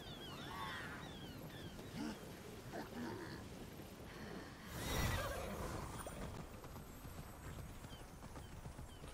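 A horse in the video game Immortals Fenyx Rising clip-clops along and lets out a clear whinny midway, hooves steady throughout over faint ambient wind, fairly soft in the mix.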